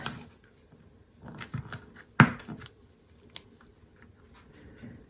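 Scissors snip through black cardstock covered in glittery washi tape, a few crisp cuts with one sharp louder snip in the middle, close up and with no talking.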